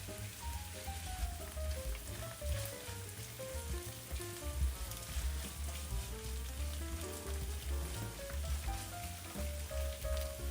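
Pixian doubanjiang bean paste and dried chillies stir-fried in hot oil for mapo tofu, a steady close sizzle and crackle under faint background music, with no talk.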